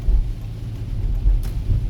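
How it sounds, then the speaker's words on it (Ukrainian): Heavy rain drumming on a car driving through puddles during a storm, a steady low rumble with a brief crackle, close and continuous, with no voices. "дощ посилюється."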